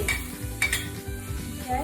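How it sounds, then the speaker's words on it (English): Garlic sizzling in hot olive oil makes a soft, continuous crackle close by, joined by light utensil clinks against the pan and a low background hum. "So after the oil heats up, it's time to put the garlic."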